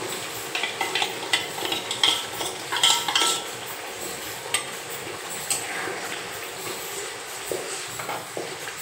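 A spoon scrapes and stirs frying spice masala with Kashmiri red chilli in a pan, with irregular clinks and scrapes over a soft background sizzle, close and alone.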